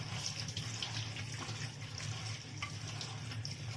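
Leaves being washed two or three times under running water, a steady close hiss of flowing tap water with faint splashes and handling clatter throughout, no voices.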